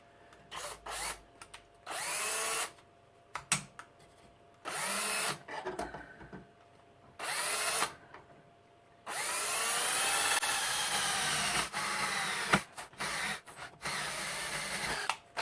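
Power drill boring a quarter-inch hole through an old ladder for nuts and bolts, close and loud, running in repeated bursts of a few seconds each with short pauses between, including one long sustained run.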